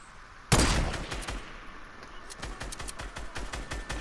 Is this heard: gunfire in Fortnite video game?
yes